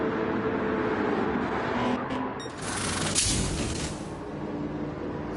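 Roaring race car engine on the Suzuka pit lane in a Super GT racing game, a loud steady drone that swells into a sharp burst as a car flies past, then settles back.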